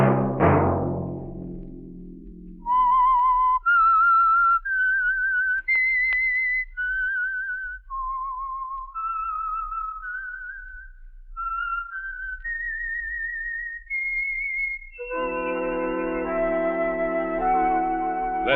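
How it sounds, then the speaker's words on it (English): A melodic whistled tune of sustained, sliding notes, clear and close, after a brief low musical opening and before a fuller musical chord swells in. "Let that whistle be your signal"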